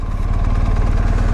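A motorcycle engine idles steadily during a slow U-turn, a close, low, even chugging with no revving.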